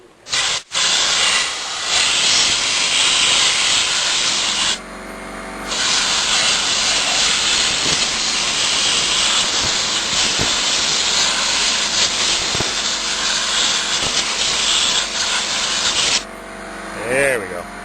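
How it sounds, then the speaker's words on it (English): Compressed air blasts dust out of a car steering column's horn lock ring assembly, a loud sustained hiss running nearly continuously with a brief break in the middle and short pauses near the start and end. "we got this thing's full of dust, so I'm going to blow it out"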